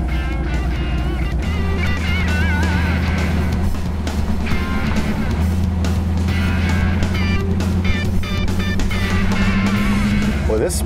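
A custom 530 hp car drives along with a steady, deep engine drone and shifting tone, heard from inside at close range, while people talk over it.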